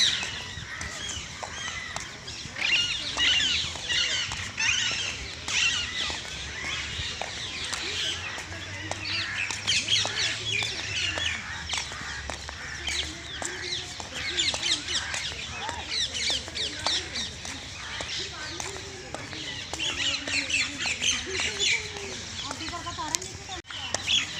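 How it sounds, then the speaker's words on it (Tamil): Many birds call in roadside trees on a walk where peacocks live, a busy layer of chirps and calls running steadily throughout, with faint background voices now and then. "பறவை சத்தம் பார்க்கும் ஆரம்பத்தில் உள்ள மரங்கள்லாம் வந்து நிறைய பறவைகள் இருக்கும்"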